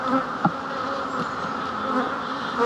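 Honeybees swarm and buzz around an open beehive during a mid-April hive reversal, a dense, steady drone of many wings close by, with a few louder individual passes rising briefly above the hum.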